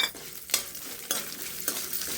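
Mustard seeds and garlic frying in a pan, with an even sizzle broken by three or four regular scraping stirs about half a second apart.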